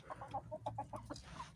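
Roosters cluck in a quick series of soft, repeated calls, moderately close in a farmyard with no talking.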